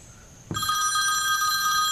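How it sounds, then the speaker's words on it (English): A telephone bell breaks in suddenly and rings on steadily with a loud, bright tone, close by and with no talking over it. "oh, the phone's ringing"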